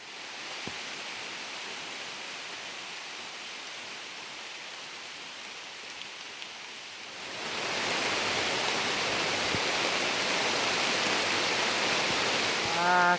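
Rain falls on an open field, a soft steady hiss that grows noticeably heavier and louder about halfway through, with no voices.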